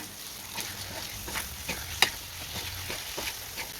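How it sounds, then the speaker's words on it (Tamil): Marinated chicken sautéing in oil with fried onions for a chicken gravy, a soft steady sizzle with faint stirring scrapes and one brief sharp clink near the middle, no talk. "இப்போ இந்த எண்ணெயிலேயே சிக்கன் நல்லா வந்து வதக்கி வந்து விட்டுடுவோம்"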